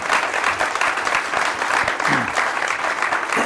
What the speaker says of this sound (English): So please give them a huge round of applause